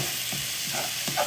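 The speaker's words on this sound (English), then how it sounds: "We're going to give it a good stir." A spoon stirs a Cajun shrimp mixture in a hot pan, giving soft scraping strokes over a steady sizzle and frying hiss, with no voices.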